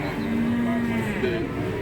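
At a cattle market in Tuban, a cow gives a low, sustained moo that fades and then briefly returns, over a dense background of crowd and market noise.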